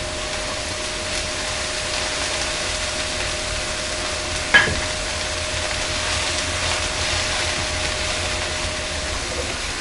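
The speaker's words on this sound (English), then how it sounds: "while my mushrooms and onions are sauteing here" Mushrooms and onions sautéing in a pan, heard as a steady, even sizzling hiss that runs throughout, with one brief knock partway through and no talk.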